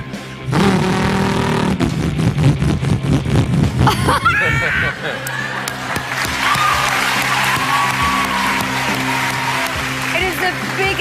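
A voice imitates a Shelby car engine with a supercharger, building a rough, revving growl and whine that rises and shifts. Loud applause and cheering from an audience run underneath throughout.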